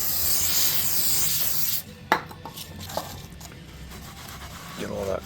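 A rag wiping over a brake rotor on a Hyundai Santa Fe, a harsh rushing rub at first that drops away, followed by quieter scuffs, a few sharp clicks and light handling noises up close.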